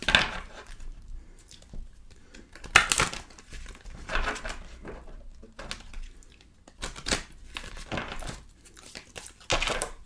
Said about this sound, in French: Alors, je vais mélanger les cartes encore une fois.